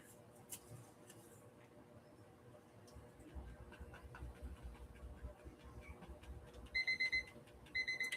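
An alarm beeps in short repeated bursts near the end, loud over a murmuring room background with faint talk and rustling earlier.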